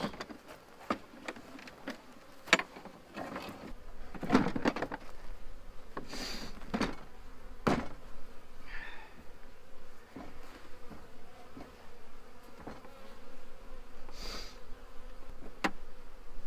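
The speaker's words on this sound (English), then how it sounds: "It looks like the bees are kind of clustered right in here." Honey bees drone in a continuous buzz around a hive as they are moved into a new Apimaye hive, with scattered sharp knocks and clicks of handling.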